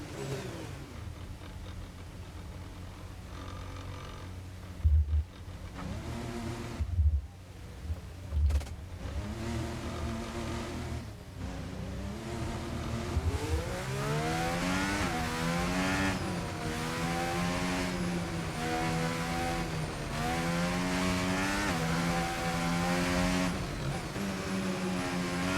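A Formula 1 car in the F1 25 racing game drops through the gears with stuttering engine blips under braking, then the engine climbs steadily in pitch as it accelerates hard out of a street-circuit corner.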